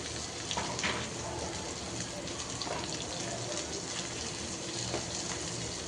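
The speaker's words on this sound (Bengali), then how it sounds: "তো থেতো করে শুটকিটা তেলে দিয়ে দিলাম, একটু ভেজে নিচ্ছি।" Dried fish (shutki) with crushed garlic, bay leaf and green chillies frying in oil, a steady faint crackle and sizzle with scattered pops, close and continuous.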